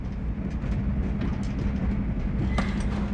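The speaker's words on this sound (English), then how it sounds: "Le train entre en gare de Wels." A train pulls into Wels station in The Last Express, a steady low rumble of wheels and carriages rolling on under faint clatter, with a brief higher squeal near the end.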